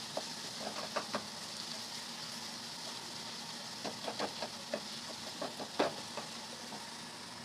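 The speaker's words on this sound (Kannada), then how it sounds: "ಹಾಗೆ ಇದಕ್ಕೆ ಹಸಿಮೆಣಸಿನಕಾಯಿ ಸೇರಿಸ್ಕೊಳ್ಳೋಣ. ಸ್ವಲ್ಪ ಇದು ಚೆನ್ನಾಗಿ ಫ್ರೈ ಆಗಲಿ." Green chillies fry in a pan for chicken gravy with a soft, steady sizzle. Light spoon taps and scrapes sound irregularly over it, fairly quiet and close.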